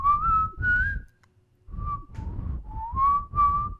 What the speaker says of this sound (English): let me try to whistle a song